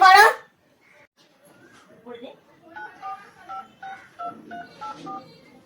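A loud rustle, then a short series of steady beeping tones from a phone being dialed, close up, with some faint murmuring in between.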